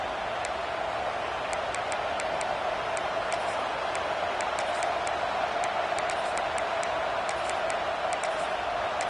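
Steady roar of a football stadium crowd building noise on a fourth down, a dense continuous wash of distant cheering with faint scattered sharp clicks, no clear talking.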